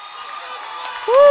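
A crowd cheers at a high school boys basketball game between Abilene Wylie and Lubbock Monterey, a steady roar and clatter across the gym that swells near the end with a sharp rising whistle-like cry.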